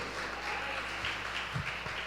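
A church congregation claps in praise of the name of Jesus, a moderate, continuous patter of many hands lasting about two seconds, with a few low thumps underneath.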